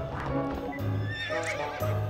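Horse in the video game To the Moon, giving a loud, close whinny over rapid clip-clopping hooves, with a second neigh near the end, all within about two seconds.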